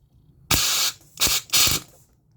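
A rebuilt Chicago Pneumatic CP9541 half-inch air impact wrench spins freely without hammering, giving three loud bursts of hissing whir, the first longest, then two shorter runs in quick succession.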